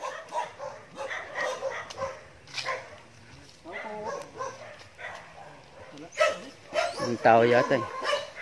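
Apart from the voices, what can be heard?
dog barking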